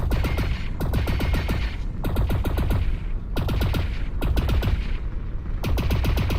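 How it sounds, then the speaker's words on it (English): An ionized bolt weapon in a VR game fires in rapid, loud bursts of staccato shots, several volleys split by short pauses, with metallic ringing and no talk. "The ionized bolts of your armament are surprisingly slow"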